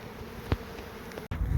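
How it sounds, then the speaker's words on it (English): Bees hum around an opened Yellow Gum beehive as the colony is worked, a steady close buzzing with a brief bump partway through. "We've got bees floating around all over the place"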